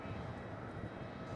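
An airliner's engines roar steadily at Melbourne Airport, a broad, continuous rumble heard from a distance at moderate volume with no pauses.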